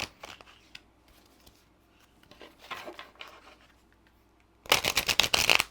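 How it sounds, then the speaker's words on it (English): A deck of new, stiff tarot cards is handled and shuffled, with soft scattered riffles and rubs, ending in a loud, dense burst of rapid card flicking. "New cards. A little bit hard to shuffle."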